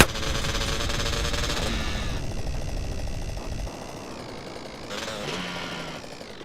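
Minigun fire in GTA San Andreas, a rapid, buzzing mechanical rattle of shots close and loud for the first few seconds, fading into quieter bursts and game noise.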